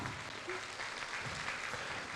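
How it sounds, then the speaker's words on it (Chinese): Applause fills a hall as kindergarten graduates enter a graduation ceremony, a steady, even wash of many hands clapping at a moderate distance with no pauses. "请进场，掌声鼓励一下。"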